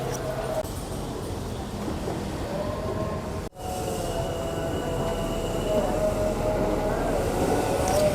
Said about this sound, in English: This is the one to Jakarta Kota. It's just pulling in.